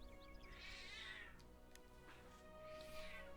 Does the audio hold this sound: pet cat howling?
yes